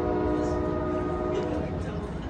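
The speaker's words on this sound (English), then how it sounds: "coming up next is Amtrak 729. Final destination of that train is San Jose Dearborn Station. Here she comes now." Amtrak Capital Corridor passenger train 729 arriving at the Oakland Coliseum station, its horn sounding as steady sustained tones over a loud, continuous rumble of the approaching train.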